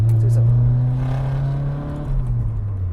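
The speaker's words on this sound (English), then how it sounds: "You gotta like step on the gas to get it to go." A 1990 Nissan 240SX S13 with roughly 140 horsepower accelerating, its engine note steady and droning with a slight rise and fall, heard close and fairly loud for a few seconds.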